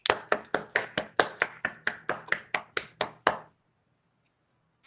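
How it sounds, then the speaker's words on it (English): Clapping at an online Toastmasters club meeting: about fourteen crisp, evenly spaced claps at a quick steady rhythm, close and distinct, then they stop abruptly into near silence. "give a big round of applause for all these 3 brave speakers today who volunteered to answer these prompts set by Liz."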